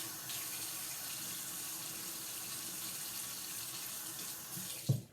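A bathroom tap runs steadily while someone washes their face, a soft, even stream of water that ends with a brief knock or clunk.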